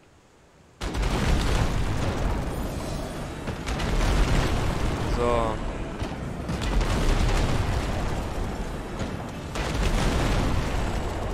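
Loud, booming ship cannon blasts from the naval video game King of Seas fire repeatedly over a dense rumbling din, with a short spoken word amid the chaos.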